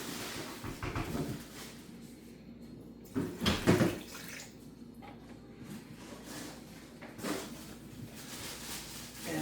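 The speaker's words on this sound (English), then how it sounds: "Then I'm gonna put in some white vinegar." White vinegar poured into a homemade bacon brine, a soft, quiet liquid trickle and splash with a few louder bursts of pouring, heard alone and fairly faint.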